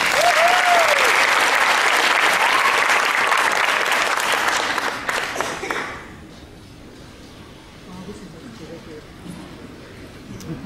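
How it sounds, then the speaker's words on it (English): Loud audience applause with cheering for a singing duo after a performance, a full burst of clapping for about five seconds that drops off sharply, leaving faint room noise. "Would you please give a nice big round of applause to our singing dude or duo, to Natalie and Julia."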